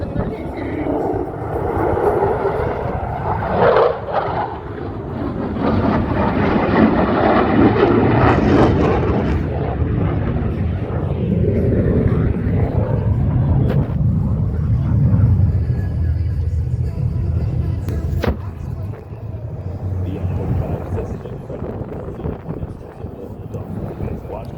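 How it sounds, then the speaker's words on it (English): An F-35A Lightning II jet at an air show climbs to the vertical through a loop, a sustained loud roaring rumble that swells and holds for a long stretch, with a commentator's voice over it. "Jet climbs more than miles to the vertical and completes the lightning loop."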